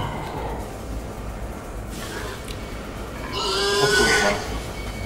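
Pig sounds from the horror video game Amnesia, a couple of squealing, grunting calls in the middle and latter part over a low, murky game ambience, moderately close.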